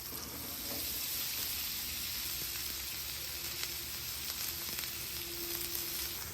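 A pat of butter melting on a hot flat-top griddle, a steady hissing sizzle close by with light crackle, no talking.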